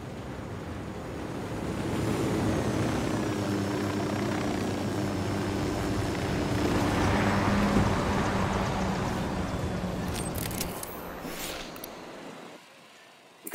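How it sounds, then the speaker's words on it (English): A surveillance drone in the military shooter Ghost Recon Wildlands whirs steadily and loudly for about twelve seconds, a sustained rotor hum with windy rush that cuts off near the end after a few sharp clicks. "Nomad, deploy your drone."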